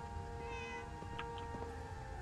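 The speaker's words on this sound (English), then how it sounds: "I heard a kitty." A cat in the video game Fallout 4 giving two or three short meows over a steady ambient hum of in-game background sound, faint and brief.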